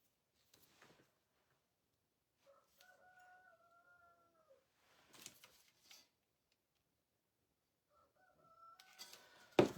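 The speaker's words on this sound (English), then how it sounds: "You can hear our roosters in the background." Roosters crow faintly in the distance, two drawn-out calls separated by quiet, with a few soft clucks and bumps in between.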